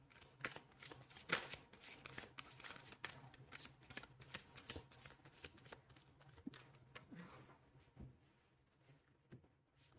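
A tarot deck is shuffled by hand, giving rapid riffling bursts and scattered card snaps at close range, with irregular pauses between the flurries.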